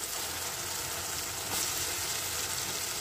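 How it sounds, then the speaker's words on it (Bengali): Pieces of fish, spoken of as boal fish, sizzle in a pan of spiced tomato masala, a steady broadband hiss of frying that runs unbroken throughout and is heard alone. "এবারে মাছগুলি আমি এর মধ্যে দিয়ে দেবো"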